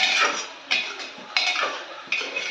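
Cooked mutton is scooped from a pot onto a plate, giving three or four sharp metallic scrapes and clinks of a spoon against steel, close and clear with quiet in between.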